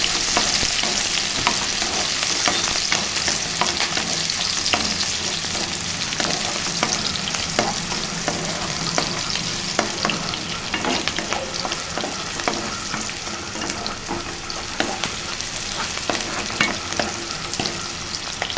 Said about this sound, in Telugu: దూరగా ఫ్రై అయిపోయిందండి ఉల్లిపాయ